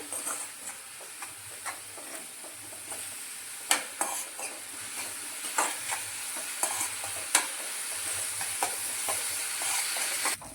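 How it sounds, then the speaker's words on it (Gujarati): Vegetables frying in a pan, including grated cabbage, tomato and grated fresh turmeric, make a continuous close sizzle with frequent stirring scrapes and light clinks of a utensil against the pan. "અને હવે આ બધું આપણે તળવા દેવાનું છે।"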